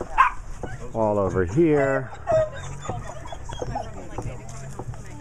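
Dogs bark and yip in short bursts, with an outdoor holiday adoption transport caravan in Georgia as the setting; a few whimpering, pitched calls rise briefly early on, and people talk over them.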